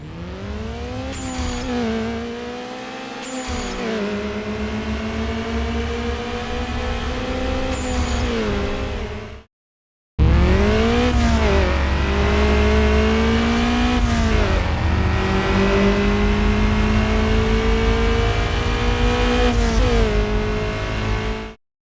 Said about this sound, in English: The engine and gear sounds were different, and all the cars by the time of this build seemed to use the same sounds.